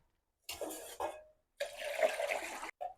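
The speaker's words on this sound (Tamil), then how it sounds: "ஃபைனலாக தேசிக்காய் தண்ணி கரைச்சி முடிஞ்சு" Lemon juice being stirred into a small amount of water, giving close, quiet sloshing and swirling liquid sounds in short bursts separated by brief pauses.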